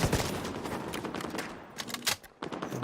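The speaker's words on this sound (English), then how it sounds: "Getting shot from the left somewhere" Enemy gunfire in the shooter game The Division 2, rapid bursts of automatic fire and scattered shots, loud and dense at first, then thinning into sporadic cracks with short gaps.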